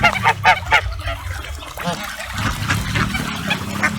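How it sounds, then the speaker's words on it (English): Large swans honk loudly in a quick burst of calls while being fed by hand, close by, followed by softer honks and a voice speaking underneath. "feeding these swans because they're just really big"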